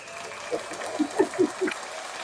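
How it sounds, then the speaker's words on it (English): Podcast hosts in a studio give a brief round of claps at the top of an episode, about five sharp, close hand claps spaced roughly evenly across the middle, with quiet room tone around them. "And that's where we clap."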